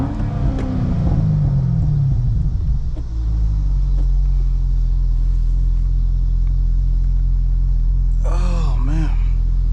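A 2011 Chevrolet Corvette C6 idles in neutral in an empty parking lot, its engine settling from a brief higher rev into a loud, steady, deep rumble, with a short voice near the end.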